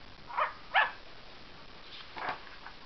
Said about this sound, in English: Jingle loved to bark hello.